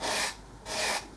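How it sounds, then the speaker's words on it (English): A steel card scraper drawn across the surface of an old wooden spirit level clamped in a vise, two close, raspy strokes separated by a brief pause. "lightly clamp it in my vise, use my card scraper,"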